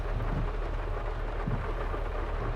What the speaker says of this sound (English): God, look at the rain now. It's really bucketing down.